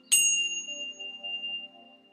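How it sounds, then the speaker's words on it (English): A single bell strikes once during morning prayer with a bright, sharp onset, then rings on with a long, clear, slowly fading sustained tone. "and the sound of a bell"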